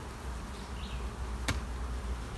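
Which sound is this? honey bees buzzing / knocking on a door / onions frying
honey bees buzzing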